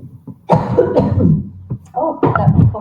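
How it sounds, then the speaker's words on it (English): Several harsh coughs from a woman in a bout lasting a couple of seconds, close to the microphone, with a short pause between bursts. "that cough is not going to leave me."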